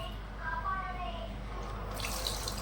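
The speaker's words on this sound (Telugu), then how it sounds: "ఇప్పుడు చింతపండు పులుసు పోసేద్దామండి" Tamarind juice poured into a pot of Andhra-style fish curry makes a steady liquid splash and trickle, close and moderately loud, with faint talking in the background.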